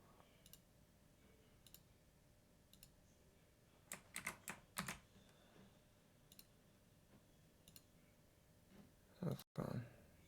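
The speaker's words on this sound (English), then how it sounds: "Then we're just typing" Quiet computer keyboard typing: scattered single key clicks, then a short quick burst of taps, and a louder clack near the end.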